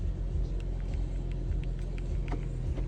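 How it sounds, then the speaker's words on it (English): A 2011 BMW X3 engine idling after a new key was programmed, a steady close low rumble with faint ticking on top, continuous for the whole stretch. "Car is running."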